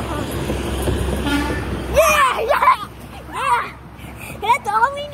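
Semi trucks sound loud, deep air horns in several long blasts beside a roadway, with traffic rumble and people talking and cheering between the honks.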